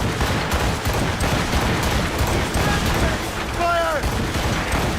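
A naval ship's cannons fire a volley in Assassin's Creed Rogue, a dense rumbling barrage of booms and blasts with a brief shouted voice partway through.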